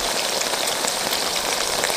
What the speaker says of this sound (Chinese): 要小火慢慢煎至两面金黄